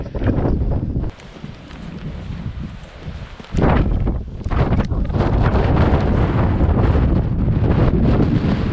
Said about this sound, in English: Now it's very windy here